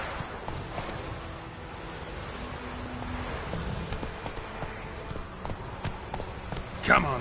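Roach, a horse in The Witcher 3, clip-clops along at a run, hoofbeats steady and mid-distance under game ambience, with a brief sharper sound near the end; a voice talks over the hooves.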